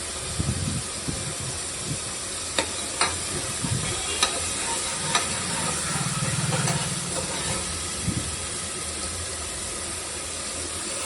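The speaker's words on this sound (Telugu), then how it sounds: "పచ్చివాసన పోయేంత వరకు వేయించుకోవాలి." Horse gram curry spices and turmeric frying in a pan while being stirred, giving a steady hiss and sizzle with several sharp spoon scrapes and knocks against the pan, with no talk.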